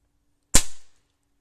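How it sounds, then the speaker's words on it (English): A Ruger air rifle fires a single sharp shot at a dime target, one crisp crack with a short fading tail, otherwise quiet. "We're going to try one more shot. This time with the Ruger."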